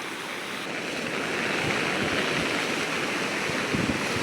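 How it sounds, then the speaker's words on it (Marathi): Steady, loud rush of a rain-swollen river pouring over a bridge and churning, a continuous broadband roar with no voices. "लगेच पुलावून पाणी पडत"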